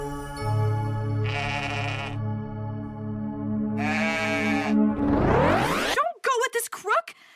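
Sheep bleating in two drawn-out calls separated by a pause, loud and close over a sustained musical drone, followed by a rising wobbly sound at the end.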